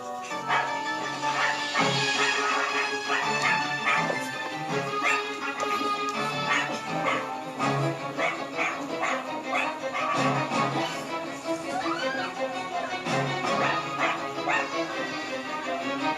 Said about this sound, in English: It's a balloon animal dog that's chasing them.